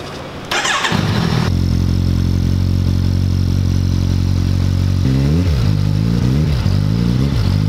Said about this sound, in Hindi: भाई बड़े दिनों से इंतजार था एक बार बाइक ऑन करें और साउंड सुनते हैं एक बार।